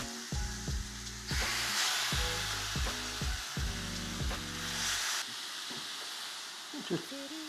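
Chicken pieces for a Turkish kebab sizzle in a hot griddle pan, a broad steady hiss swelling for several seconds over low droning tones, then fading to quieter crackles.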